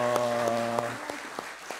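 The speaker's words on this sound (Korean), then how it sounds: "박수로 환영합니다" A church congregation at an Easter Sunday service claps to welcome guests, light scattered claps under a sustained tone that fades out after about a second, leaving a few distinct claps.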